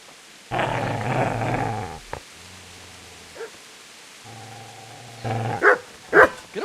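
Dog growling and barking from Kingdom Come: Deliverance, a long low snarl followed by shorter growls and a few sharp barks, close and loud, with no talk.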